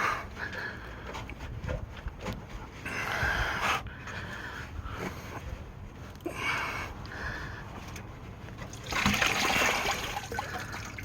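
Coolant trickling and splashing out while a radiator is pulled from a Jeep Commander, close, uneven watery dribbles mixed with handling noise, with a louder gush near the end.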